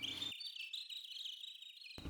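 An analog modular synthesizer mimics bird chirps with a steady stream of bright, high-pitched warbling tweets, continuous and fairly faint across the whole stretch, with no talking.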